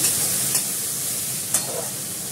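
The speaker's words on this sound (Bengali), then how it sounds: "ভালো করে কষিয়ে নেব।" Spices and a yogurt masala sauté in a pan, producing a steady close sizzle with a couple of brief spatter bursts and faint stirring, and no voices over it.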